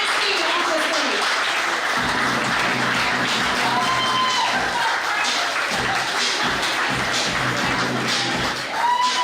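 Warm audience applause at an NFL Men in Black honoree event welcoming the guest of honor onstage, a sustained, dense clapping from a crowd with some shuffling and low murmur underneath.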